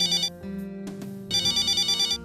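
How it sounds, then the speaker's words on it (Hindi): A home landline telephone rings in repeated electronic bursts, loud and close, with a short gap between rings and no talk over it. "फोन उठाइए।"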